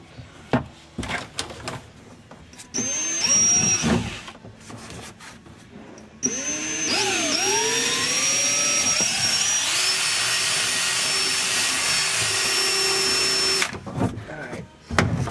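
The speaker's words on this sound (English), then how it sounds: "Once you got those holes drilled" A power drill whines in two long runs while boring holes for rudder tubing on a jon boat, its motor pitch sagging under load, with knocks and handling clatter between runs.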